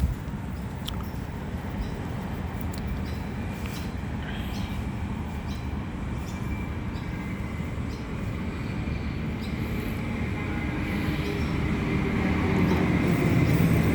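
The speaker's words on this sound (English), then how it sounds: "But here's an intercity train." A Sydney intercity diesel train at a station, a continuous low rumble and rolling clatter that grows louder toward the end, with faint squeals on top and no speech.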